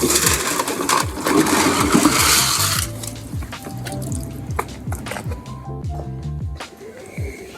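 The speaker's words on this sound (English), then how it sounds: "Give it a rinse with the hose" A hose rinses out bins in a Lego shop, with a loud, close rush of spraying water for about three seconds before it gives way to scattered dripping and trickling.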